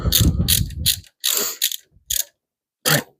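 A ratchet wrench clicks in several quick bursts while tightening a bolt on the steering of a Simplicity Prestige garden tractor, close and loud, with brief pauses between strokes.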